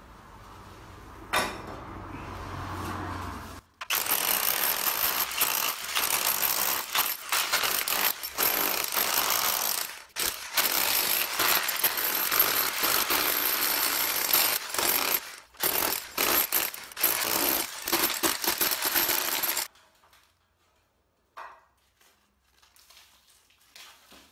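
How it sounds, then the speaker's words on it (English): A hammer-action chisel chopping brick out of a wall to recess an electrical back box, loud, harsh rapid hammering in long bursts with short pauses, stopping near the end into near silence. "So now I need to chop a bit of the brick away."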